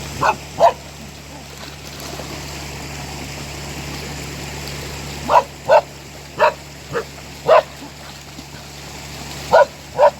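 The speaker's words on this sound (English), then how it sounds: "He just barks and wants to watch it." Dog barking outdoors near a mountain runoff stream, several short sharp barks in two bursts with a long pause between, over a constant rushing-water background.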